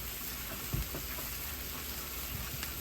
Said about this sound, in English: You can probably hear in the background my deep fryer